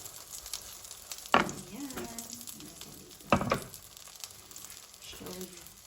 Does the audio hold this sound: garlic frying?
yes